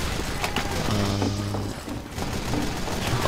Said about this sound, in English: being shot from somewhere, and I don't know where